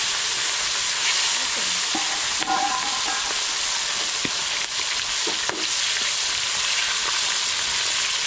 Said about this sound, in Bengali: মাছটা কিন্তু বেশি ভাজা যাবে না,